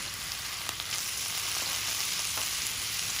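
Minced meat fries with ginger and garlic in a pan, making a dense, constant sizzle with a few faint stirring taps, close and steady, with no voices.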